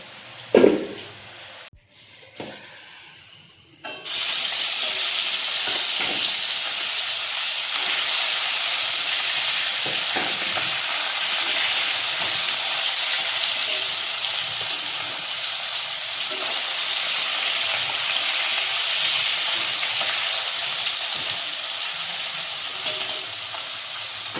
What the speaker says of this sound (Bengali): আলু ভাজাটা নামিয়ে মাছ ভাজাটা বসিয়ে দেবো